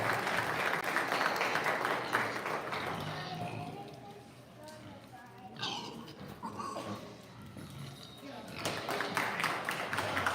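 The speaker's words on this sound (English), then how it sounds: "one more round of applause for these kids and all their hard work" Crowd at a livestock stock show applauds the kids in the ring, dense clapping at the start that thins into a quieter middle with scattered sounds and voices, then swells again near the end.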